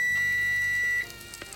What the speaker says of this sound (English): that beep is because I'm still baking bread